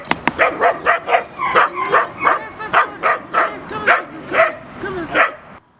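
A dog barking repeatedly in close, loud bursts, a rapid string of a dozen or so sharp barks and yips with some whimpering tones, ending in a brief pause.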